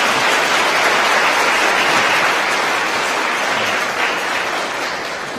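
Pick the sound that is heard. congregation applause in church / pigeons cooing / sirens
congregation applause in church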